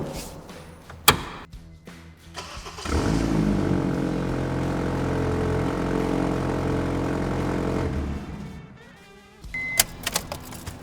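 A Honda Civic engine is started after a starter replacement, with a short cranking sound that settles into a steady, droning idle for several seconds before shutting off, close by and with no talking.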